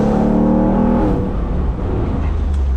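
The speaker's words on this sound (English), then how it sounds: "the power feels like with that Coyote V8. Wow, it's actually fast and it sounds good." A Ford Bronco with a Coyote V8 engine roars as it drives, a loud, close engine note that rises and then eases to a lower rumble, with no talking.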